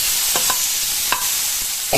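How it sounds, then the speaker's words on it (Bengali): Potato curry stir-fried in a pan with dried red chilli and black cumin, a steady loud sizzle with a few sharp scrapes of the spoon against the pan, no voices. "এখানে আমি শুকনো লঙ্কা ফোড়ন আর কালো জিরা ফোড়ন দিয়েছি, দিয়ে একটা আলু চচ্চড়ি করছি।"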